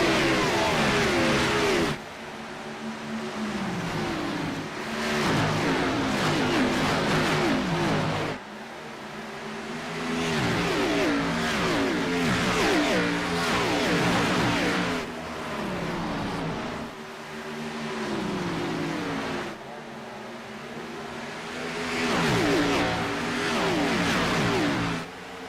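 Race cars at Dover's Monster Mile in the iRacing sim roar past in repeated waves of rising engine pitch, loud and continuous as the pack laps, with no talk.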